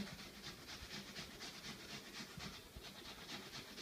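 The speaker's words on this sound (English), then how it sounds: "Now we are grating the 2 tablespoons of onion" Onion rubbed against a kitchen grater for potato dumplings, a faint, steady scraping at a quick even rhythm, close by and without speech.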